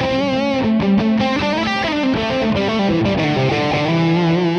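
Louder electric guitar solo tone from a VOX StompLab IIG multi-effects pedal, a driven, slightly distorted run of quick notes and chords played up close, steady and loud throughout with no speech.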